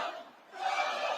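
Crowd at a Donald Trump rally in South Carolina roaring and chanting, a dense surge of voices that dips briefly and then swells back up, loud and continuous.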